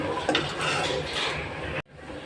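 Whole cumin and a bay leaf are stirred in hot oil in a pan for a Bangladeshi eel fish charchari, a close frying hiss with faint scraping clinks of a utensil, then a sudden drop to quieter sizzling.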